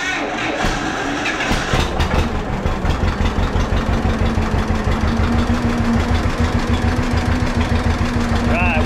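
Antique pullback tractor engine idling close by, a loud steady low rumble with rhythmic knocking pulses, with speech heard over it.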